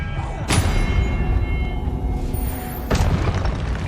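Two booming spell impacts from Expelliarmus in Hogwarts Legacy, each a loud, sharp thud with a lingering tail, spaced a few seconds apart over steady game ambience.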